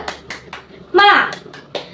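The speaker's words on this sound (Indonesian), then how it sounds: "marilah kita sama-sama melakukan tepuk semangat" A classroom of children performs the tepuk semangat clapping routine during a micro-teaching lesson, sharp rhythmic claps in a patterned sequence mixed with children's voices calling out in unison midway.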